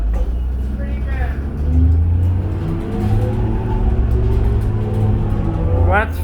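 A 2001 New Flyer D40LF city bus accelerating at night, its engine whining and rising in pitch in steady sweeps, heard from inside with people talking over the drone.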